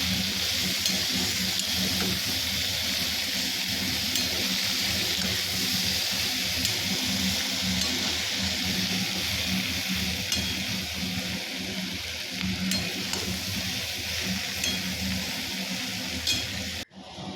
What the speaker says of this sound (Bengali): এরপর তো আমাকে নাড়তেই হবে, নাড়তেই থাকলাম।